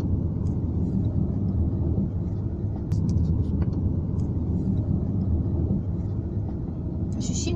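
A car creeping slowly along a road behind a truck, with a steady low engine and road rumble throughout and a few faint higher noises on top.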